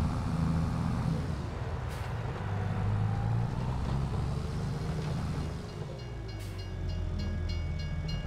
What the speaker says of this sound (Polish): O, pociąg jedzie.